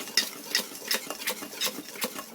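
A spoon mixes cauliflower pakora batter in a bowl, making quick, regular wet scrapes and taps about twice a second. They sound close and fairly crisp, with no talking.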